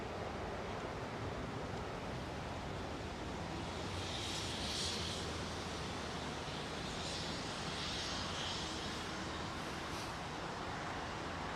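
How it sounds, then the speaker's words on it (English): An airliner takes off from runway 27 right at London Heathrow bound for JFK, producing a continuous, even jet roar heard from a distance with no break. "Lined up 27 right off to JFK. You are clear for takeoff."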